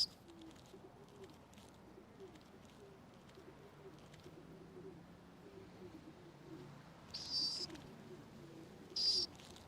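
Soft, low cooing from city pigeons runs faintly through the background, with a couple of brief brighter bird calls near the end.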